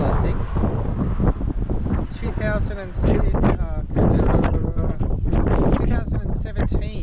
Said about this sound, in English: Probably can't hear anything I'm saying because of the wind.